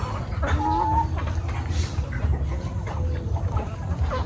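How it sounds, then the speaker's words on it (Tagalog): Five black roosters and hens cluck and call over a steady low background hum in General Santos City, with a few short crowing-like tones standing out. "Yan po yung 5 nating tandang"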